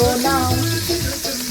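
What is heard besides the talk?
shrimps frying in hot oil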